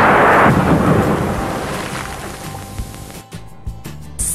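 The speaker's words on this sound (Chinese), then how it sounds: "好大雨啊！" Heavy rainstorm during a Hong Kong rainstorm warning: a dense, loud roar of rain with deep rumbling thunder, easing after a few seconds into scattered sharp drops and distant rumbles.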